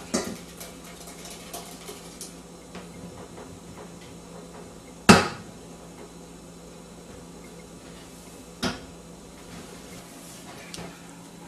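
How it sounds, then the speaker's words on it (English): Muscadine pulp goes back into the same cooking pot in a home kitchen, giving a few clattering pot and utensil knocks, one sharp clank near the middle and another later, over faint background noise with no talking. "I just put that back in the same pot."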